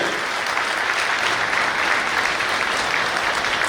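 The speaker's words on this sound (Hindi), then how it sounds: "मैं सभी छत्तीसगढ़ सराफा के व्यापारियों से बोलूंगा कि ताली बजा के इस सौगात का आभार व्यक्त किया जाए" Bullion traders at the Chhattisgarh jewellers' convention applaud, a loud, sustained, even roar of many hands clapping in a large crowd.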